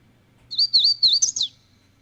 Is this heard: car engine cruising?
no